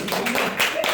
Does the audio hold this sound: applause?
yes